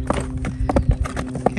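A gaited horse's hooves drum out a rhythmic clip-clop of repeated dull thuds as it canters, while a person talks over the footfalls.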